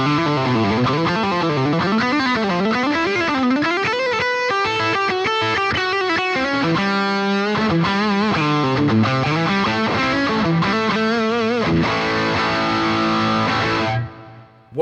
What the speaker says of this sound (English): This is my sort of go-to distortion overdrive sound that I would use for a variety of different styles